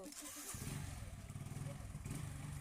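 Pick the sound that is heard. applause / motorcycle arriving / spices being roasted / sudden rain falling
motorcycle arriving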